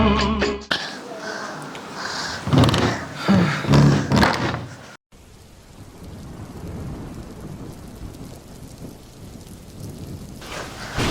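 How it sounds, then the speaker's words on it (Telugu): Heavy rain pours steadily, a dense hiss of water, after a few seconds of loud, dramatic talking and sound effects at the start. "అంత పెద్ద వర్షం పడుతుంది"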